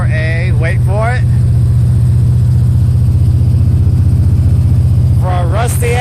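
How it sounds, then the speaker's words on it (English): A rusty 1973 Datsun 240Z fitted with a Chevy V8 runs close by at a steady, loud, throbbing idle. Its low rumble continues without a break, and a person talks briefly over it at the start and again near the end. "for a rusty-ass Datsun with a V8, a fuel cell, and a turbo 350 automatic transmission"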